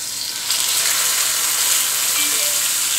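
Nilgai backstrap fillets hit hot oil with a steady, close sizzle that swells louder after the first half second and holds as a continuous crackling fry.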